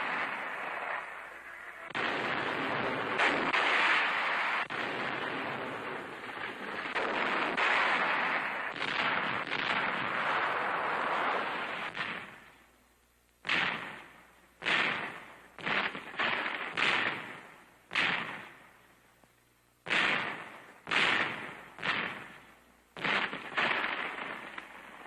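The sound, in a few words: dynamite blasts during artillery training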